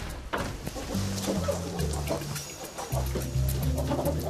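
Hens on a family farm in the Val de Travers cluck in short, repeated low calls that overlap one another, heard fairly close over faint outdoor background noise.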